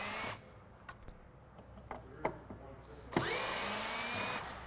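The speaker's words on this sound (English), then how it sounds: "To remove the actual top from the box, you have to continue taking out the screws." A power drill runs in bursts to back screws out of the packaging of a granite vanity top, loud whirring at the start and end with small clicks and knocks between.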